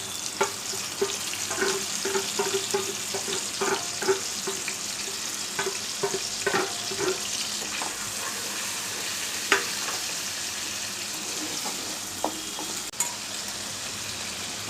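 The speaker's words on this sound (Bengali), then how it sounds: "আমার আলুটা ভাজা হয়ে গেছে, আমি এবারে টমেটোটা দিয়ে দিচ্ছি।" Potatoes and tomatoes fry in a pan for chitol fish kalia, making a continuous close sizzle broken by frequent scraping and tapping of a spatula as the food is stirred.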